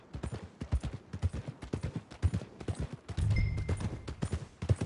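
A horse's hooves clip-clop at a steady walking rhythm in the video game Red Dead Redemption 2, close and clear, with a brief rumbling swell partway through.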